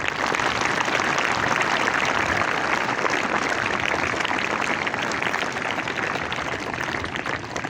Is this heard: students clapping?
yes